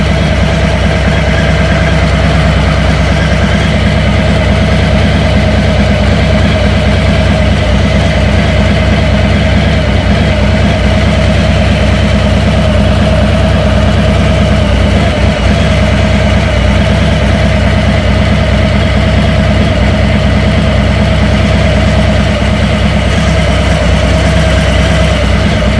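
A Harley-Davidson Sportster motorcycle engine runs steadily in first gear with the clutch held in, a loud, close, continuous throbbing idle that holds without change for the whole stretch.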